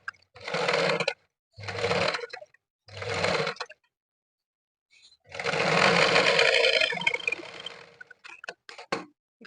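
Domestic sewing machine stitching a blouse, running in three short bursts and then one longer steady run, close and clear, with brief clicks afterward.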